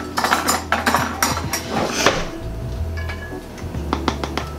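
A spoon clinks and scrapes against dishes and pots in a home kitchen while cooking Swiss steak, with a quick cluster of bright metallic taps followed by a few scattered knocks, close and clear.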